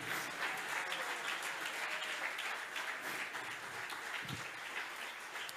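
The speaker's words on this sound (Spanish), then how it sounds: "Alguien que aplauda fuerte al Rey de Reyes y Señor de Señores." A church congregation applauds loudly, a dense, sustained wash of clapping that stays strong throughout.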